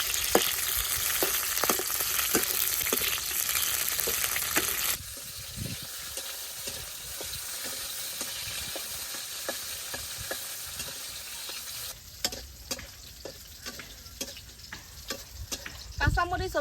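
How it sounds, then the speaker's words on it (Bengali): Green chilies fry in hot oil in a village kitchen while a mash dish is being made, with a constant sizzle and many sharp pops crackling throughout, loudest at the start, close up and with no talk. "কাঁচামরিচ গুলো সাবধানে বাজার লাগে, কারণ কাঁচামরিচ তো ফুটে।"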